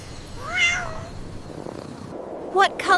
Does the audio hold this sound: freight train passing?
no